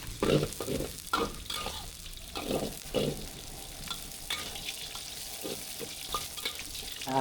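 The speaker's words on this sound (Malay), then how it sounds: "Kita goreng daging ni masak tu dah." Meat sizzles and crackles in hot oil while a utensil stirs and scrapes the pan in uneven strokes, close up.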